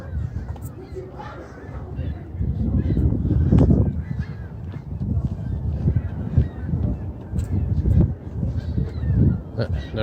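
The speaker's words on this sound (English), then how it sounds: "You hear those seagulls." Seagulls honk and squawk repeatedly over a constant rumble of outdoor ambience and traffic, at moderate distance, on a street in Saint-Laurent, Montreal.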